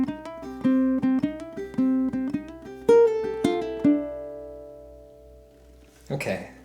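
Ukulele plucking the last two bars of a blues shuffle in a swung triplet rhythm, closing on a sustained ringing chord that fades out before a brief voice enters at the end.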